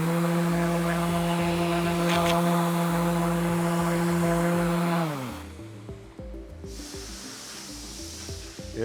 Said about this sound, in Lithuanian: Tai pirmas etapas dažykloje yra šlifavimas.